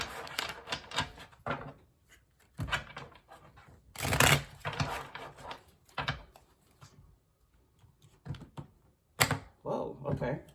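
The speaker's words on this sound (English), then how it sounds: "I'm gonna give you 2 more shuffles." A tarot card deck is shuffled by hand in quick riffling bursts with crisp card slaps, broken by short pauses.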